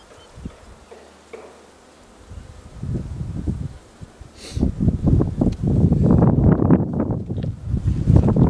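Honeybees swarm over the frames as a hive is opened for its first spring inspection, a dense, close buzzing that grows louder and fuller over the clip, with handling rustles underneath.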